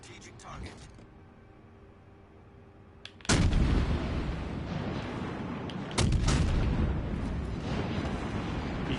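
Heavy naval gunfire in the video game World of Warships Legends, with an American cruiser in play: two loud, booming salvos a few seconds apart, each followed by a long rumbling wash, preceded by a quieter stretch with faint mechanical noise and brief talk.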